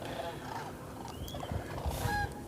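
Wild ducks and what may be cranes calling outdoors, several honking and gabbling calls overlapping at middle distance over a steady outdoor background, with no talking.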